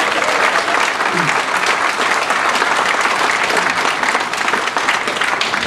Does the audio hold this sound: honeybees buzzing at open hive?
no